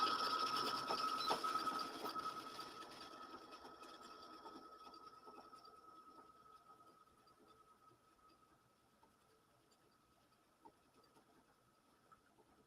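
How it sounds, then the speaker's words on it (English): A sewing machine stitches along the side of a quilted reusable fabric bag in a dense, rapid burst at first, then slows and fades into sparse, quiet ticking. "I'm just lifting my presser foot up, turning my bag, and then I'm going to stitch the opposite side."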